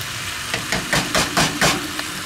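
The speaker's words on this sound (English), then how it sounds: "Sausage cook up good." Garlic sausage fries in a pan with vegetables, a steady sizzle broken by a series of rhythmic scraping or stirring bursts, close and fairly loud, with no talk.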